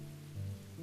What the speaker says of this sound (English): Outside, I hear nothing but the endless sound of rain.